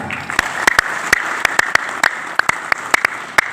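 Sharp, evenly spaced single claps ring out at a religious gathering in Indonesia, about a dozen crisp hits over a steady room murmur, more like rhythmic hand-clapping than a wash of crowd applause.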